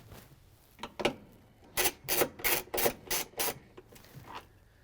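A hand ratchet fitted with a 3/8 inch socket and extension backs bolts out of a GE washing machine, giving a burst of about six quick, close clicking rasps in the middle, with quieter clicks before and after.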